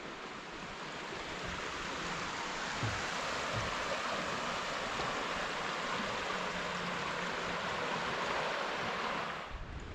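Clear creek water pours over Wild Creek Falls in a state park valley, a loud, steady broadband rush that fills the whole stretch without a break, with no voices.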